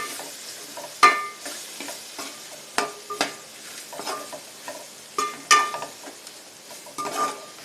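A spoon scrapes and stirs spices and vegetables for vangi bath in a frying pan, giving repeated rhythmic scraping strokes with metallic clinks over a soft background sizzle.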